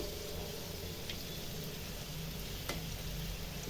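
Somas pastries made with semolina dough frying in hot oil over a slow flame, a steady, dense sizzle throughout with a couple of faint crackles, close and without talk.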